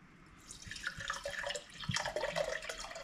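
Heinz white vinegar pours from the bottle into a homemade hot sauce mixture, a soft continuous liquid splashing and trickling for a few seconds, close and fairly quiet.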